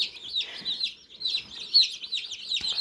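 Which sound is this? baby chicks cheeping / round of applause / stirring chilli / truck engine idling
baby chicks cheeping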